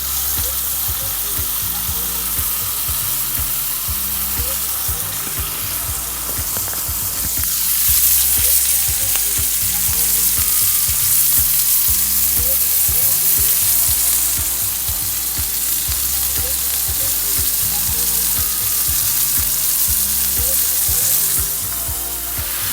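A thick steak searing in a hot pan gives a loud, steady sizzle and spitting fry, constant and close throughout with only slight swells, with no talk over it.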